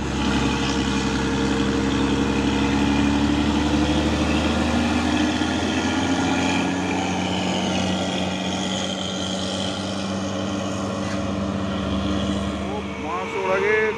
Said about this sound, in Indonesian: Masuk lagi truk trailer Hino membawa apa ini, paku bumi.